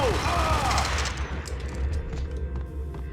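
Ingram submachine gun fire in the 2001 PC video game Max Payne, rapid clattering bursts with a whooshing swirl at the start, then steady shot volleys continuing at moderate volume.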